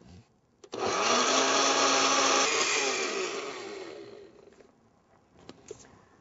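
A blender whirs loudly as it blends a breakfast shake with crushed pills added, a steady motor roar lasting about three seconds before winding down, followed by faint clicks.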